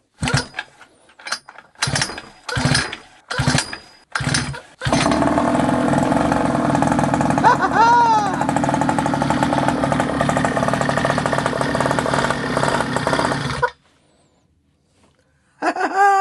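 A restored abandoned mini motorbike engine is pulled over in several short bursts, then fires and runs with a buzzy, lawnmower-like drone for about nine seconds before cutting out, with a brief restart attempt at the end.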